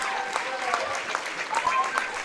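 A crowd cheers and applauds at a high school varsity basketball game as senior Emmett Dinger of the Wall Eagles reaches 1,000 career points on a breakaway layup; steady, dense applause fills the gym with whistles and shouts rising throughout.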